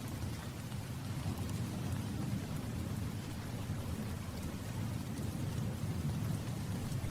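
Steady heavy rain with a thunderstorm on a summer night by the sea, a constant dense hiss of falling water layered over a low continuous rumble, unbroken throughout with no voices.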